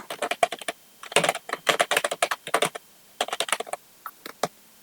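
Rapid keystrokes clatter on a computer keyboard in quick bursts with short pauses, close and crisp, no voices.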